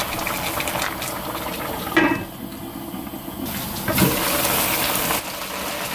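Korean braised pollack with radish simmers in reducing broth over high heat, a loud continuous bubbling and hissing with a few brief clatters and shifts in intensity.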